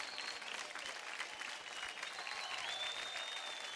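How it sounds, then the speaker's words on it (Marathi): Steady, dense applause from a studio audience honouring costume designer Abhijit on the Marathi dance competition stage of Dance Maharashtra Dance, sustained evenly throughout without a break. "खूप खूप टाळ्या त्यांच्याकरता"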